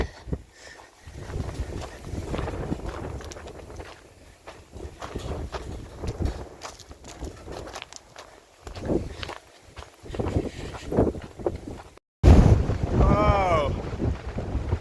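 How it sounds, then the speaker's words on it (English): Strong wind buffets the microphone along a rough mountain hiking path near Puig de ses Basses toward Sant Elm, a steady roaring rush with gusts and occasional footsteps, swelling louder near the end. "Got some pretty heavy winds here now. Very strong winds."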